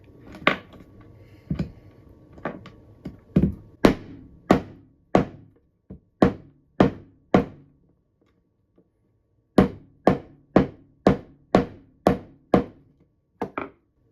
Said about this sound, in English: I was hitting that as heavy or heavier than the last jig.